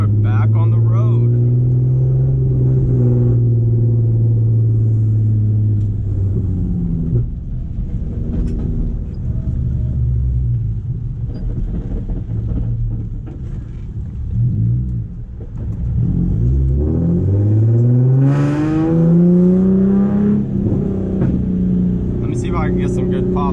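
Nissan 350Z with a full Tomei exhaust on the road, a deep rumbling engine note that drops off, then rises in strong revving pulls through the gears, heard from inside the car with occasional talk.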